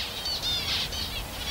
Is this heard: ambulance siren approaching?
no